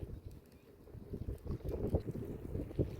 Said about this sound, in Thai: ลมมันนี่ลมแรงมากเลย